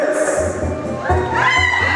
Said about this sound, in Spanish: Vale, pues ahí están los aplausos